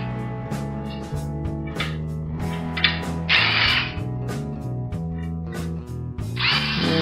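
A cordless drill fitted with a nipple driver unscrews spoke nipples on a bike wheel, whirring in short bursts, its motor pitch rising and falling, with clicking ratchet sounds between runs, close up and fairly loud.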